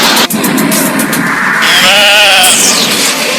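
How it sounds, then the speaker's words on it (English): Sheep bleat loudly and close at a 1986 Canadian sheep shearing competition, with one long, wavering cry rising above a steady background of farm noise. "The sheep have arrived"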